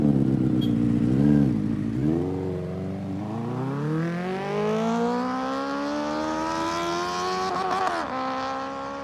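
A Benelli TNT 600i motorcycle engine revs close by, a couple of short blips followed by a long, rising climb in pitch that holds high before easing off.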